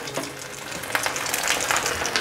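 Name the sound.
vegetarian fish frying in oil in a pan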